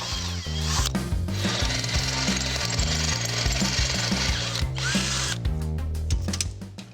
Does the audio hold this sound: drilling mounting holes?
yes